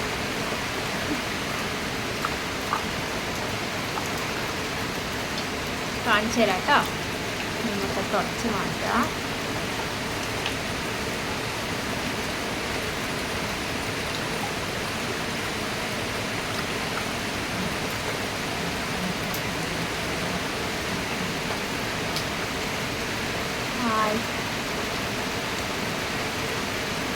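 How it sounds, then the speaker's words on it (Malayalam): Heavy rain pours down in a steady, dense hiss, with a person speaking briefly over it. "നല്ല മഴയാണേ"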